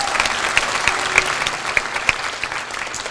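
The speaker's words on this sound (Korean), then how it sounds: "많은 박수 부탁드리고요" Hall audience applauding at a university debate competition final awards ceremony at Sookmyung Women's University; a close, dense patter of many clapping hands with a few sharper individual claps standing out, steady throughout.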